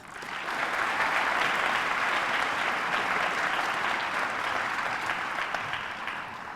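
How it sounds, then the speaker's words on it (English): Graduation ceremony audience applauding honor graduates: steady, dense clapping from a large crowd that fills the whole stretch at an even level, easing slightly toward the end, with no voices above it. "Please give them a round of applause."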